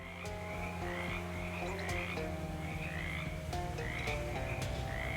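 Frogs croak in the Shadows Over Loathing video game, a steady chorus of repeated croaks layered over a continuous swampy ambience, with no talking.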